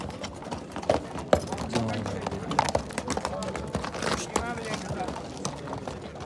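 Horses' hooves clip-clop on the ground at a horse market where horses bred for the uloq game are sold. The hoofbeats come irregularly while people talk over them.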